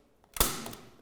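A single sharp staple gun snap drives a staple through roof window membrane into a timber batten, one close crisp click followed by a short mechanical rattle.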